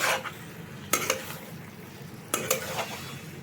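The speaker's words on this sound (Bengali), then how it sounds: "জলটি দিয়ে আমি একটু মিশিয়ে নেব ভালো করে" Okra and fish roe being stirred in a pan after water is added, with two clusters of sharp utensil scrapes against the pan over a quiet background and a faint sizzle.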